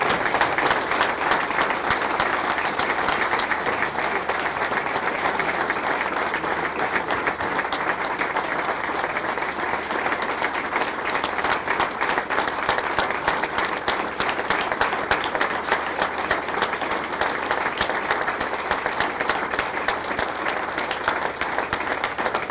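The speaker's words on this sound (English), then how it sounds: "let's give him the kind of applause just to let him know he's loved and respected" An audience gives sustained applause for retiring coach Ken Sparks, a dense, even roar of clapping that holds steady for over twenty seconds without a break.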